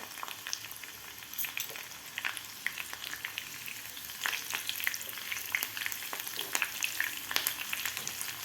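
Slit green chillies frying in hot oil in a pan, a steady crackling sizzle with sharp pops and stirring scrapes that grow busier toward the end, close and alone with no voices.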